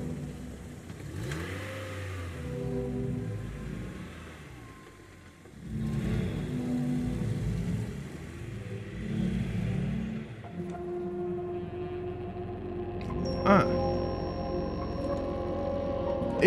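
A car engine revs and accelerates in the video game Welcome to Kowloon, a moderate mid-pitched drone that swells and eases over several seconds, with faint ticking and no talking.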